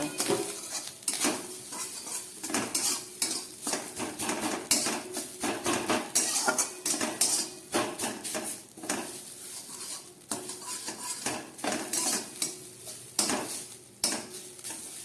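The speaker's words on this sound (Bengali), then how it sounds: "এই ঘিয়ের মধ্যে আমি হাফ মালা নারকেল কুড়ে রেখেছি সেই নারকেলটাকে ভালো করে ভেজে নেব" Grated coconut frying in ghee for homemade bakery-style biscuits, stirred with a metal spoon that repeatedly scrapes and clinks against the pan over a soft sizzle.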